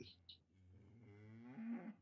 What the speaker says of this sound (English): we'll stop the cow sounds for a moment